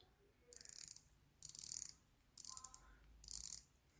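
A SteelDive SD1971 Sumo homage dive watch bezel being turned: four short bursts of fine, rapid ratcheting clicks, each lasting about half a second, separated by brief pauses, close and quiet.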